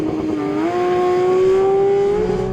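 A new Porsche 911 GT3 launches from a standing start with stability and traction control switched off. Its engine note rises into a loud, climbing howl that swells steadily over a few seconds.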